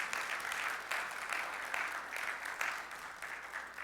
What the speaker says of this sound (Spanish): ¿Puedes darle un aplauso al vencedor?